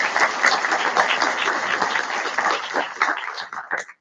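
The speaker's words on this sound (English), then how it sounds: "I'd like to give a big round of applause to all the parents, grandparents, and guardians" Graduation audience applauding parents, grandparents and guardians at the 2023 Avoca ceremony: dense, steady crowd clapping that fills the room for about four seconds before thinning out at the end.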